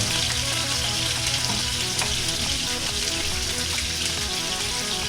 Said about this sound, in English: Let's go ahead and get our steaks going.